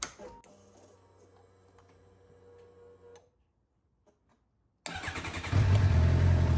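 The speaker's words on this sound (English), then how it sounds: "because obviously I started the engine" Ticking clicks run for a few seconds, then a pause, then a car engine cranks and starts, with a KingBolen BM520 battery tester connected, settling into a loud, close rumble.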